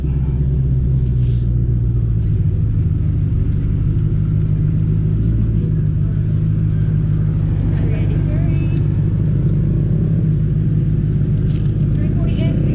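A twin-turbo 2020 Ford Mustang GT at a drag strip gives a heavy, continuous low rumble that shifts slightly in pitch partway through, heard from close by with some faint background noise.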